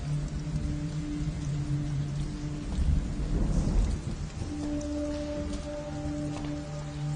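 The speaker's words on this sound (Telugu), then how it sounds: "వర్షం ఇప్పుడప్పుడే తగ్గేలా లేదు." Heavy rain pours steadily while a deep rumble of thunder swells and fades in the middle, with the downpour continuing loud throughout.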